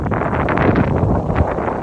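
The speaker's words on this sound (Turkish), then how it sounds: "arkadan esen rüzgar var" Following wind rushes past a sailboat cruising between coves near Pserimos, a dense, steady roar of wind against the microphone, loud and close with no voices.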